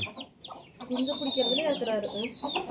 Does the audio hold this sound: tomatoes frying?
no